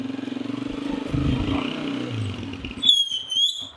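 A motorcycle engine putters and revs close by with some rattling, then cuts out, followed by a short high squeal.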